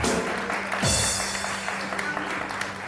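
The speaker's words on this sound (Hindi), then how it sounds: "तो जी फातिमा के लिए बहुत सारी तालियां।" A studio audience claps for a woman named Fatima as she is called up to cut a cake at an anniversary celebration on a television show, a broad wash of applause filling the room.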